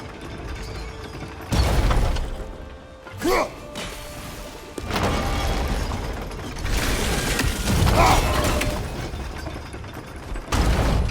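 In God of War Ragnarok, a crank turns to open gates with loud ratcheting and grinding gears, heavy thuds and creaks in repeated surges, under brief talk.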